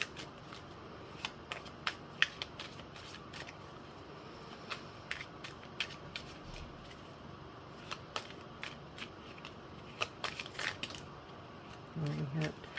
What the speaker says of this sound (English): I'm gonna just shuffle for a minute here until I feel like I'm supposed to stop.